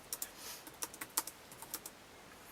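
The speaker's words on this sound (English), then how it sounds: "But I can actually type a program in." Someone types a BASIC program on the keyboard of an Acorn System 1 computer, giving a quiet, irregular run of close, crisp key clicks with short pauses between them.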